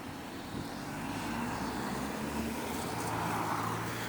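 A car draws near along a quiet rural road near Logie Kirk in Stirling, Scotland, its steady engine and tyre rumble holding at moderate level throughout with no talking.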